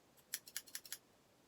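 Quick series of about six crisp scissor snips from first aid kit scissors, close and fairly faint, clustered in under a second with quiet before and after.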